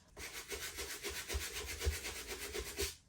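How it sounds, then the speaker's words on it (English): A brush scrubbing roller skates with cleaner, quick rhythmic back-and-forth strokes of bristles rubbing close by at a soft level for about three seconds, with no talking. "I'm going to use a little more and just spot brush the areas that I think might still need some scrubbing."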